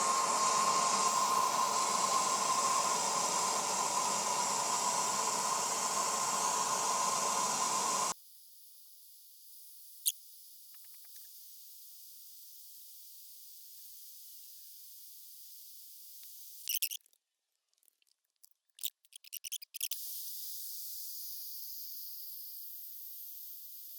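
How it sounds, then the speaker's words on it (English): MAP gas torch heating the tip of a metal lathe tool red hot, a steady broadband roaring hiss for about eight seconds, then stopping, followed by quieter hiss and a few brief clatters. "I'm going to heat this up. Try to get it, it's MAP gas. Try to get it red hot on the tip."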